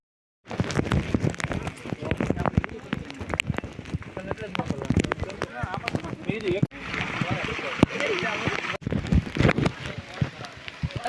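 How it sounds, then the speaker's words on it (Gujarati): Steady rain patters on surfaces all around on Girnar mountain in Junagadh, India, close and fairly loud, with people talking and moving through it as they walk down in the rain. "જો વરસાદ ચાલુ થઈ ગયો ને હવે વરસાદમાં નાતા નાતા ઉતરવી"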